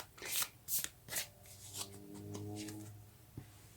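Tarot cards being shuffled by hand, with several quick riffling bursts at the start followed by softer sliding and tapping, close and alone with a faint tonal hum underneath.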